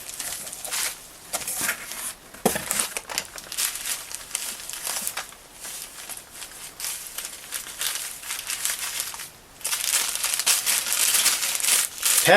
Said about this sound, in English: Packing material.